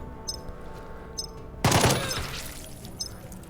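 Burst of automatic gunfire in the tactical game Jagged Alliance 3 as the mercenary Fox gets hit, a sudden loud volley that decays into ringing after a quiet stretch with faint clicks.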